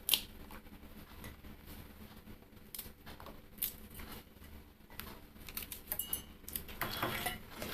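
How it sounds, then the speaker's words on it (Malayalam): A knife chops ginger and green chilli on a board, giving irregular soft taps and sharper clicks at close range, quiet and uneven over a low background hum. "ഇഞ്ചി ഒന്ന് ചെറുതാക്കി ഇടാം. പച്ചമുളക് ഒന്ന് മുറിച്ചിട്ട് കൊടുക്കാം."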